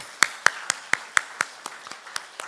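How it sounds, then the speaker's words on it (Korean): A few hands clapping in slow, evenly spaced claps during a church prayer worship service, with crisp separate strikes in a sparse rhythm that softens toward the end. "결국은 선하신 일을 이루실 우리 주님께 영광의 박수 올려드리겠습니다."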